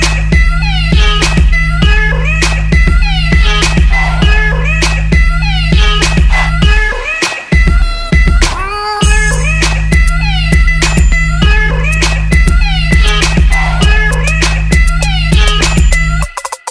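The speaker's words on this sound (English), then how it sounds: "Meow." A cat meows again and again, loud and close, in a steady run of calls that continues almost without pause.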